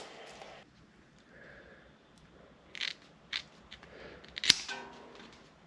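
Rubber flap trimmed shorter while working on a 1965 Toyota FJ45 Landcruiser, a few quiet snips and crunchy cuts spaced apart, with one sharper snap near the end, close by in a quiet workshop.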